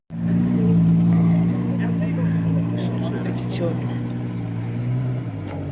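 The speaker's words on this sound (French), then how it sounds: "Là, t'as une voiture peu rare." A rare car at the Tour Auto 2026 rally stage at Aeroscopia, Toulouse Blagnac, drives past with a steady, loud engine drone that fades slightly, while people chat nearby.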